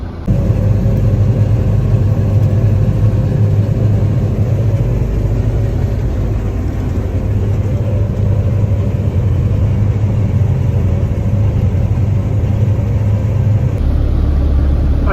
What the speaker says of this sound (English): I'm driving a semi, she's driving a semi from the same field.